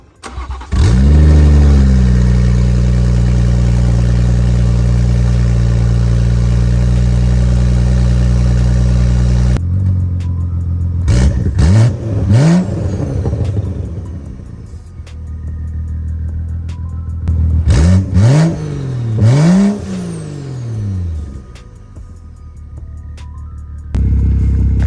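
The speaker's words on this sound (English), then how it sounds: "Got a couple sound clips for you guys, get a little rev." A turbocharged B58 engine in a BMW M240 starts and idles with a loud, steady rumble, then revs up sharply several times in short bursts before settling back to idle.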